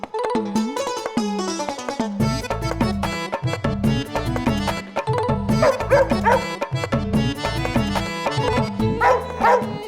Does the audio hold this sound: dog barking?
yes